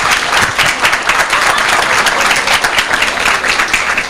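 An audience at a medical emergencies symposium applauds a doctor, producing loud, sustained, even clapping from many hands that runs steadily throughout without talk over it.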